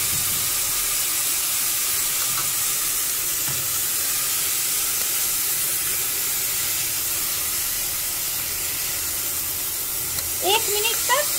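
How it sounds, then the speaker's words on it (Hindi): Rice and dal frying with vegetables in a pan for mixed veg khichdi, a steady broadband sizzle running the whole time at moderate level, with a brief clatter of stirring near the end. "एक मिनट तक इस चावल और दाल को भी सब्जी के साथ फ्राई कर लेना है।"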